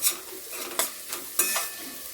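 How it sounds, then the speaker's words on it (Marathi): Onion sautéing in a pan for a radish-leaf stir-fry, with bright sizzling and several sharp spoon scrapes and stirs in quick succession, close and fairly loud, no voices. "याच्यामध्ये कांदा टाकून घ्यायचा। कांदा छान मऊ करून घ्यायचा आपल्याला।"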